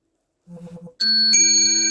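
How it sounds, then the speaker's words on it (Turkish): A smartphone's prayer-time (ezan) notification chime: a short soft four-note ding, then a loud sustained bright electronic melody ringing until the end, with no talk. "Bu arada ezan vakti bildirimi"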